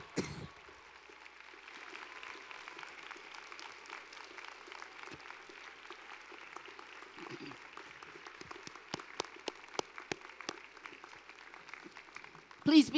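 Graduating students at a spring university commencement applaud their supporting families in the stands, a broad wash of crowd clapping that carries on steadily for the whole stretch, with louder individual claps standing out near the end.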